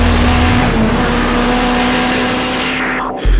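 Race car engine in the video game Need for Speed Shift, roaring loud and close at high revs in a sustained howl before cutting off abruptly near the end.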